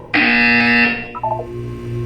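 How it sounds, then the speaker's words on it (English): A loud electronic buzzer from the Portal 2 video game sounds in one sustained, bright harmonic tone lasting under a second, followed by softer descending synthetic tones over a low hum. "When you hear the buzzer, look up at the ceiling."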